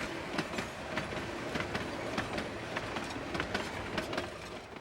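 A train runs along the High Line railway track with a steady rolling rumble and a regular clickety-clack of wheels over rail joints, close and continuous throughout.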